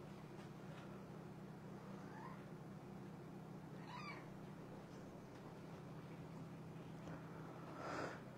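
A cat meows in a scolding way, giving a few short, fairly faint calls spread over a steady low background hum, with no speech.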